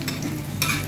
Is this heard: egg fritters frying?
yes